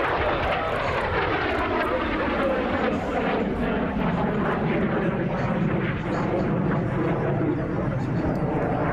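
An F-86 Sabre jet flies an airshow demonstration, its engine a loud continuous roar that shifts in pitch as it passes, with people talking over it.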